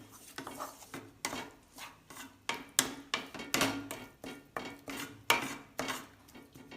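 A spoon or spatula stirs grated coconut in a pan for coconut burfi, making a steady run of close scraping clinks and knocks against the metal. No one speaks.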